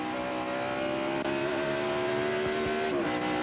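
A race car at Watkins Glen held in second gear under hard throttle, its engine a loud, steady high-pitched drone that climbs in pitch and then dips briefly near the end, with no voices.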